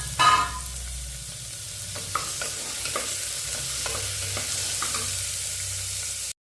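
Chopped onion, green chili, garlic and ginger sautéing in a pan, with a soft continuous sizzle and repeated scraping stirs of a spatula at irregular intervals, close and fairly quiet, no talking.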